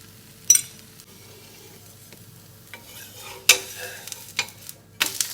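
Moringa dosa cooks on low heat with oil in a pan: a faint, steady sizzle runs underneath, broken by a few sharp scrapes and clinks from a spatula against the pan.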